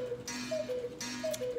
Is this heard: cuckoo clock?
yes